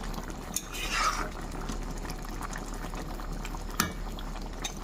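Vegetarian khichuri simmers in a pot on a stovetop as a soft, continuous bubbling hiss, with a couple of faint utensil clinks over the low steady bubbling.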